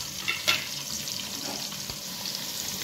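Chopped garlic and onion sizzle steadily in hot oil in a pan for a chicken masala, a soft continuous frying hiss with a couple of small stirring clatters near the start.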